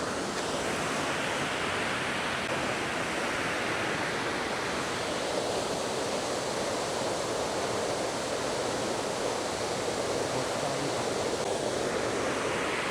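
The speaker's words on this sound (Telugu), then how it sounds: "ఈ వైట్ లైన్స్ మొత్తం వాటర్ ఫాల్ గుట్ట మీదకి కారుతుంది" Ladies Bath Falls on Mount Hotham, Australia, pours in a steady, dense rushing roar that stays even and unbroken throughout, with no voices over it.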